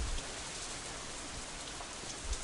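Steady rain in the Katawa Shoujo visual novel, a dense, even hiss of falling drops with faint low rumbles, continuous and moderately loud with no voices.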